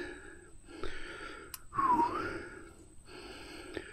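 Heavy, laboured breathing of a mountain biker caught by a chin-mounted camera on a trail, several loud gasping inhales and exhales close to the microphone.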